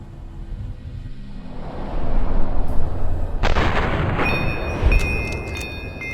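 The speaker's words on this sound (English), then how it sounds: "Then, I took aim and fired." Rifle gunfire in the Fallout: New Vegas video game, with a loud burst rising out of a low rumbling background near the middle and a sharper ringing tail after it.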